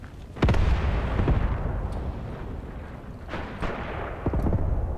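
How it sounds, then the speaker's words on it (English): Artillery and mortar strikes in the WW2 strategy game Graviteam Tactics, several heavy booming impacts landing a second or so apart over a rumbling battlefield background. "Another artillery strike is coming."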